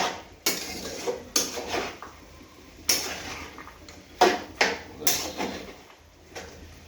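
Ingredients sautéed in a kadhai with a metal spoon, irregular scraping and clanging strokes against the pan, close and moderately loud.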